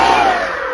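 An electric motor on a foam-board RC plane whines loudly and steadily as the throttle is tested, with the pitch drifting slightly downward across a brief burst.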